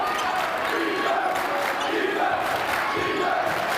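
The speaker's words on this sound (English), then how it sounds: "LT crowd loud as ever" A loud high school basketball crowd in the Chicago area roars and cheers during play, a dense continuous wall of voices with surging shouts throughout.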